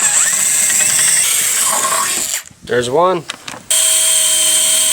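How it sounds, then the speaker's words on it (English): A power drill with a small bit boring a pilot hole whines steadily and loudly up close, cutting out briefly while a voice speaks, then running again. "I'm going to be using a much smaller drill bit to start the hole"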